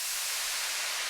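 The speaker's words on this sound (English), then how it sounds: "Some white noise." Steady broadband white noise in a dubstep track, even and unbroken, filling the short stretch at moderate loudness with nothing else over it.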